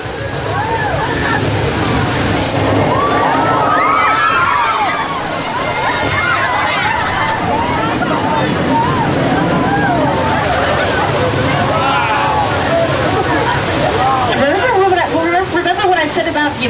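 Staged flash flood at a tram ride, 10,000 gallons of water rushing down a hill in a loud continuous slosh and roar, with a crowd of riders shouting and chattering excitedly over it.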